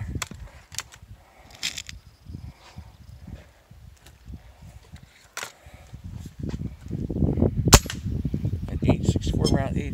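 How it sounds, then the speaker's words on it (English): Shots from a Diamondback pellet rifle during velocity testing, sharp isolated cracks standing out against handling noise, thumps and quiet background sounds, with a louder burst of clatter and rustling toward the end. "So I'll just do a couple of shots with the Diamondback again."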